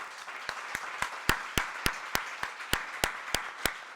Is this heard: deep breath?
no